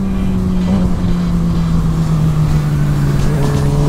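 A Suzuki GSX-R 750 motorcycle ridden on an open road on a cold, sunny day gives a loud, steady engine drone with a sustained low hum and rushing wind, continuous throughout with no talking.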